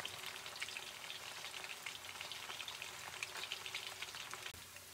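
Potatoes fry in a pan with a continuous crackling sizzle, dense and even throughout, fairly quiet and heard alone, ending with a small clatter.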